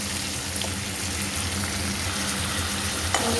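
Prawns stir-fry in a pan with taro leaves, a dense, steady sizzle close by, with faint clinks from stirring.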